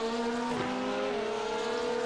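A fast LMP2 prototype race car closes on and passes a slower Porsche in a racing video game, a steady high engine whine holding tone as the cars run close together, with a brief swell at the moment of the pass.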